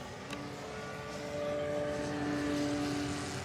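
An FMS Beaver 2m RC plane's engine runs steadily on the ground, a close, continuous propeller drone that grows slightly louder and higher from about halfway through.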